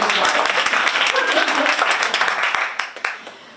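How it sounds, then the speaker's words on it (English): Audience clapping for a panelist at a historical society lecture about growing up in Los Alamos, a dense burst of hand claps that holds steady, then thins and fades out toward the end. "or clap for him"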